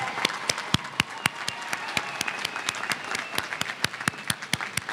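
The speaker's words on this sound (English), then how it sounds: "we will applaud you as well" At a community college commencement, a crowd applauds the graduates' children with steady, sustained clapping. Sharp individual claps stand out rhythmically from the near hands.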